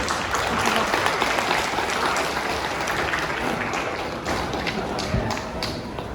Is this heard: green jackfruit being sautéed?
no